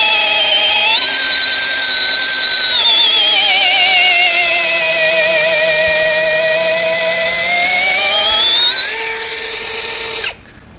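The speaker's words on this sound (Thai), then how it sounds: "เจาะกับไม้ท่อนใหญ่นะครับ" A brushless 21V cordless drill whines steadily at high speed for about ten seconds, boring into a thick piece of wood, its pitch dipping and rising under load, then cutting off abruptly.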